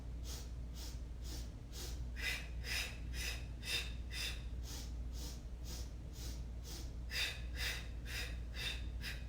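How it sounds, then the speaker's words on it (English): Rapid forceful breathing during a yoga workout, a long series of sharp nasal puffs in quick rhythmic bursts with a brief pause midway, close and steady with no talk. "Inhaling 2, 3, 4, 5. Exhale out."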